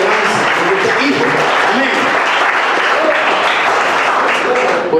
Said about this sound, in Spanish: ¿Cuánto le dan palmas al Señor?